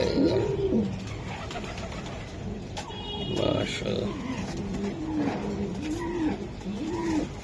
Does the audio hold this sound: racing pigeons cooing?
yes